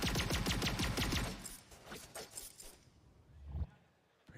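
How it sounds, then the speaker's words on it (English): Rapid gunfire in a Valorant video game match sounds in a quick burst at the start, then gives way to scattered quieter shots and clicks as the action settles. "Preemptively firing the peak there from Ye."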